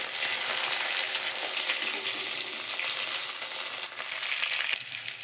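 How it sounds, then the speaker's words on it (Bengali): Onions frying in hot oil until reddish brown for a Bengali home-cooked Sunday lunch: a steady, dense, hissing sizzle that holds evenly throughout, up close and without any voices. "পেঁয়াজটা পুরো লাল লাল করে ভাজা হয়ে গেছে"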